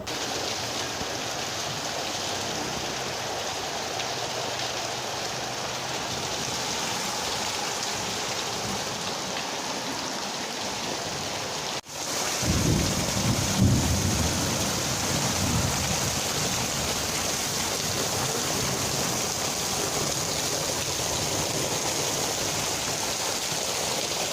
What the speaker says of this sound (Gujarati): ફૂલ તેજીથી વરસાદ આવી રહ્યો છે